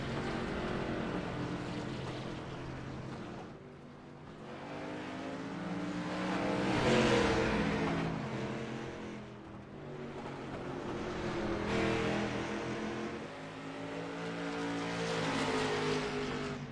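Street stock race cars start a B-feature heat at a simulated Southern National track in iRacing, engines revving in rising and falling waves of throttle, loud and continuous, with no talking over them.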